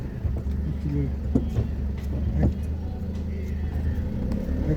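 A car idles and pulls away under light throttle, with a steady low engine drone, during a driving lesson on a ring road, with reverse gear just engaged; voices may be faintly present underneath.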